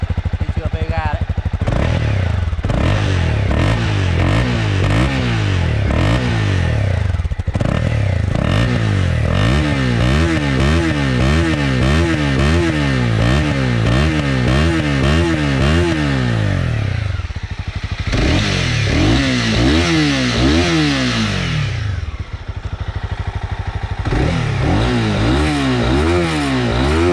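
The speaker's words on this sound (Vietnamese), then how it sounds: "Nghe tiếng ống xả. Đây là khi chưa nẹt các bạn nhé." A Honda CB300R 2019 motorcycle exhaust rumbles loudly up close at idle, its low throbbing engine note wavering and pulsing steadily without pause.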